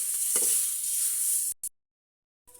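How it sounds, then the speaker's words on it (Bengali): Potatoes frying in oil, a steady bright hiss of sizzling with a brief clink, heard close before cutting out abruptly to near silence. "আলুগুলো অল্প করে একটু ভেজে নিবে"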